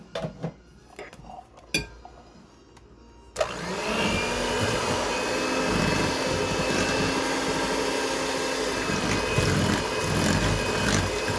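Electric mixer blending white sugar with canned pineapple in a bowl: a few clinks of dishes, then the motor starts and runs as a loud, steady whirring drone with light rattling in the bowl.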